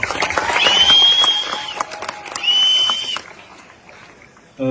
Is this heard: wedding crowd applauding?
yes